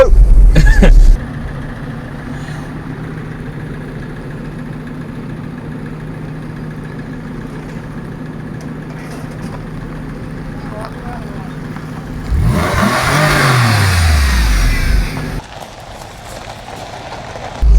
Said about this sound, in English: First drive of my Porsche.